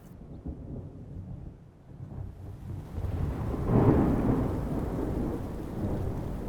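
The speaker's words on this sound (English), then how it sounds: "October brings the short rains." Rain falls steadily during the October short rains in Katavi while a deep rumble of thunder rolls in and swells midway, then lingers under the continuing downpour.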